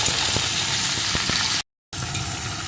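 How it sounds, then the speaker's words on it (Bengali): Ivy gourd (kundru) frying in a pan over medium-low heat, a steady broadband sizzle that runs continuously with a short silent gap partway through, close and fairly loud with no talking. "এখন কুর্তিগুলো আমি ভালো করে একটু ভেজে নেব খুব বেশি লাল লাল করে ভাজবো না"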